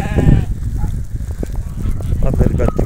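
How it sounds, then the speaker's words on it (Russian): Sheep and a young ewe bleat in a snowy yard amid rustling and shuffling, moderately loud and close, with occasional human voices. "Это барашка, ярочка молодая и 4 овцы."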